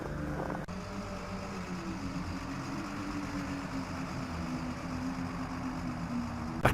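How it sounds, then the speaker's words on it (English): A truck engine in the Lost Horizon video game runs as a steady, low droning rumble that holds even and unbroken, after a brief louder noise at the start. "Sounds like an engine."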